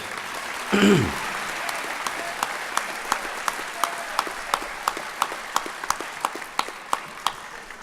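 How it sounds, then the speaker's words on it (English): High school graduation audience applauding a graduate, a brief loud cheer at the start giving way to scattered, thinning claps that dwindle to a few isolated hand claps spaced about half a second apart. "Let's give another big applause for Nashay."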